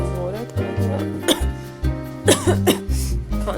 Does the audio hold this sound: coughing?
yes